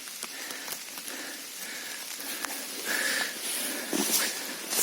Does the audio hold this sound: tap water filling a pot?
no